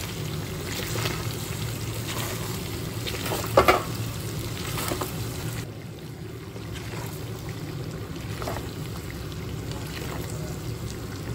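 Pork curry with spices cooks in a pan in a Nepali village kitchen, making a soft, continuous bubbling sizzle with a few brief stirring clatters against a low background hum.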